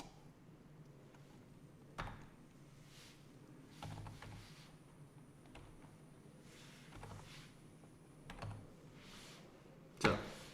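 Computer keyboard typing while writing code, heard as sparse, faint clicks and keystrokes with a few sharper taps, in a quiet room.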